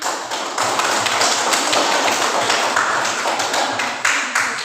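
Steady, fairly loud applause from a class of students clapping for a classmate after a presentation, a dense continuous patter at close range with no talking.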